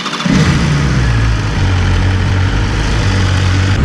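A 2019 BMW S1000RR motorcycle engine runs nearby, its loud, steady mid-pitched drone starting up, settling into an even tone and holding it throughout. No one speaks.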